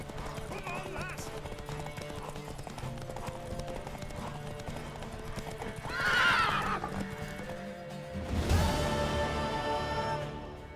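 Horse hooves clip-clopping at a racing gallop in The Witcher 3, with a whinny rising partway through, under game music and spoken dialogue.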